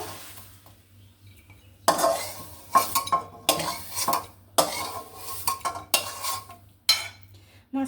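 Pot and metal utensils clank and scrape in a home kitchen as turmeric-boiled sea fish is lifted off the stove, with a steady low hum beneath a run of irregular, close clattering bursts.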